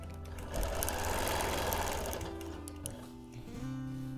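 A sewing machine quilts a Quilt of Valor with ruler work, running as a loud, steady, close hum and whir throughout with no talk.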